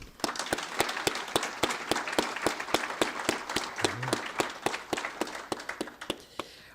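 A small crowd claps for award winners at a college journal's annual publication launch, producing dense, even applause nearby that tapers off toward the end.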